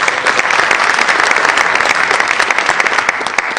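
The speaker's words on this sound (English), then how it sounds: "So let's give the water polo team one more round of applause," A crowd at a Princeton ceremony applauds the water polo team, loud close continuous clapping from many hands with no speech.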